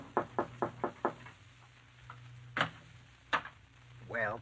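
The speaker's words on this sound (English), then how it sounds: "Your throat feels a little tight as you go upstairs and knock on the door." A series of five quick knocks on a door in a radio drama, followed by a couple of single thumps and a brief voice, crisp and close against a quiet background hum.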